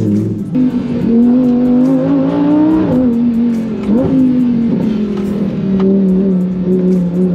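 A Lamborghini Huracan Evo, an all-wheel-drive supercar, accelerates hard nearby. Its engine tone rises steadily, dips briefly at each gear change and climbs again, and the loud roar runs without pause for the whole clip.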